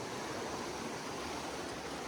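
Fox Creek flows beside the Appalachian Trail with a steady, close, broadband rush of water that holds even and unbroken throughout.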